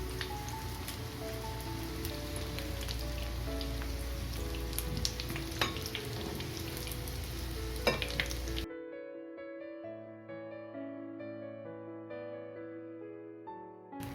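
Spicy cauliflower pakoda deep-fries in hot oil with a dense, bubbling sizzle and sharp crackles, close and fairly loud, before the frying stops and soft music takes over.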